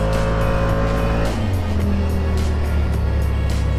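A car drifts along a bank with a loud, continuous engine drone whose pitch sweeps and drops, and there is a faint edge of tire noise throughout.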